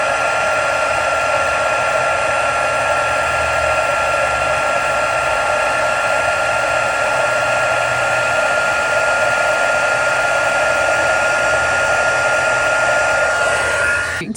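A heat tool blows a steady, loud whirring stream of hot air to heat-set embossing powder on a Christmas greeting card, running continuously up close and cutting off at the end with no voices.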